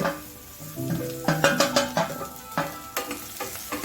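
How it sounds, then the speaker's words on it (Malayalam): Close sizzling and crackling of ginger and green chillies frying in oil on low heat, with rhythmic spoon scrapes and clinks against the pan, no voices. "ചെറിയ തീര വെച്ചിട്ട് നല്ലതുപോലെ പൊരിച്ച് വറുത്തെടുക്കണം"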